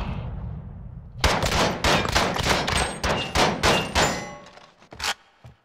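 Rapid automatic gunfire in the video game Call of Duty Modern Warfare cracks out in a loud, dense burst of closely spaced shots, followed by a few scattered single reports that trail off.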